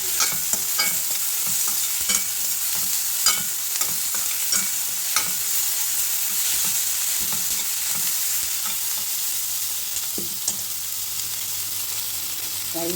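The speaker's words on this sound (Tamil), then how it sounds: "லைட்டாக வதங்கினா போதும்." Onions sautéing lightly in a pan, with a continuous bright sizzle and frequent scraping stirs of a spatula, close and moderately loud throughout.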